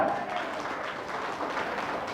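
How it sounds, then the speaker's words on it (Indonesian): Audience applause at a Maulid Nabi religious gathering, a steady wash of clapping filling the room throughout at moderate level, with no clear voices over it. "Tepuk tangan."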